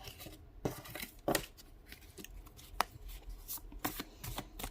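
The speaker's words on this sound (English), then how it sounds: "I'm shuffling in front of you guys so you can see me shuffling" A deck of tarot cards is shuffled by hand, with quick irregular riffles and soft slapping snaps at close range in a quiet room.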